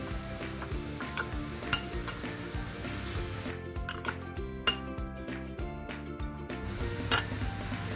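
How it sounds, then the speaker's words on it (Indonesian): A utensil stirs paprika into a dry flour mixture in a bowl, making repeated close clinks and scrapes against the rim, with a few sharper knocks spaced through the stirring. "Kemudian jangan lupa untuk kita aduk biar merata ke semua tepung."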